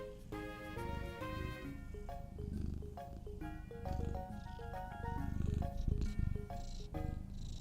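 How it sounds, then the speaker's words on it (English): A cat purrs softly and rhythmically, close by but faint, beneath steady melodic game music. "Can you hear her purring?"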